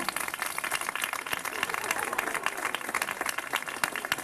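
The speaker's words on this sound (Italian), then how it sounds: "applausi per il bambino" Steady applause from a theatre audience for a child volunteer, dense rapid clapping sustained throughout at an even, moderately loud level.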